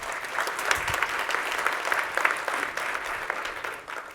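A room audience at a DevOps talk gives a short, steady burst of applause for a newly assembled team, dense clapping at an even level that fades out toward the end, with no talk over it.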